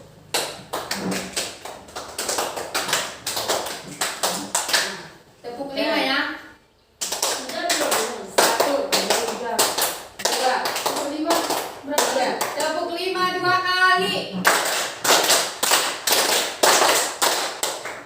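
A group of adults claps in short rhythmic bursts of patterned beats, alternating with a person speaking and two brief stretches of rippling, voice-like sound.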